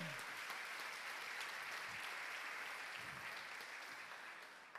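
Sustained applause from a church congregation at a celebration service, a dense, steady wash of clapping that holds level for about five seconds before easing slightly at the end, with no talk over it.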